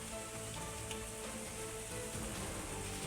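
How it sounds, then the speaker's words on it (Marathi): Heavy monsoon rain pours down on the old Kashedi ghat road in Maharashtra, a loud, unbroken hiss of rainfall with no voices. "इकडे मुसळधार पावसाचा जुन्या कशेडी घाटाला तडाखा बसलेला आहे."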